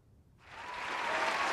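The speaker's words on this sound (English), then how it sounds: "Give him a clap." An audience bursts into clapping after a brief quiet moment, the applause swelling quickly and then holding steady and full, with no voices on top.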